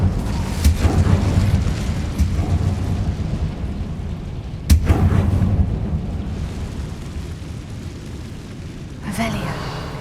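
An Incendio fire spell from Hogwarts Legacy goes off in a few booming, eruptive bursts with a rumbling roar between them, and a voice is heard talking over the spellcasting.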